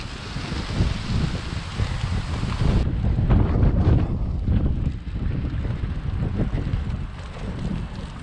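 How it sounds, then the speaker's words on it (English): Loud, continuous wind rumble buffets the microphone of someone riding home with a northerly tailwind, a dense roar that never lets up for the whole stretch. "with a lovely northerly tailwind pushing me home."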